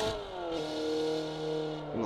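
A BMW 325i E30 engine held at full throttle in a racing video game, a steady high droning note that climbs slightly, briefly dips as if shifting, then rises again, loud and close with no talking.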